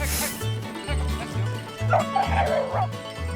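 Several hunting dogs bark and yip in a rapid, overlapping chorus nearby, with a whining, higher-pitched cry rising partway through.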